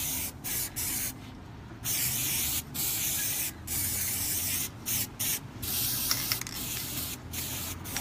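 An aerosol spray can spraying paint in a hobby workshop, with close, loud hissing bursts of varying length separated by brief pauses, some long and steady, others short and clipped, with no talking.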